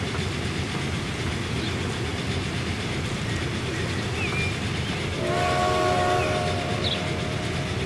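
A steady rumbling train runs throughout in the video game Transport Fever 2, and partway through a sustained multi-tone whistle sounds for a couple of seconds before fading.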